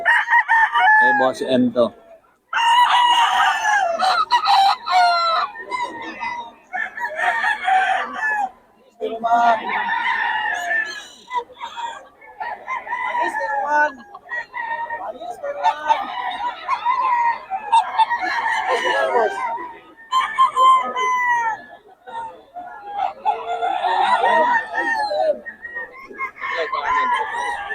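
Bullstag rooster of Boston bloodline crowing repeatedly, loud and close, with several long crows spread across the clip and some clucking between, while someone talks over it at times.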